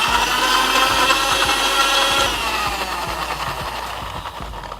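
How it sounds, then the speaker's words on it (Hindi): An electric mixer grinder blending ash gourd with a little water runs with a loud, steady grinding whir, easing slightly in pitch and volume midway, with faint knocking underneath. "कुछ ही सेकंड्स में हमारे लिए ये पेठा आराम से मिक्सी में पिस जाएगा।"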